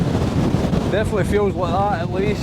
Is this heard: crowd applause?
no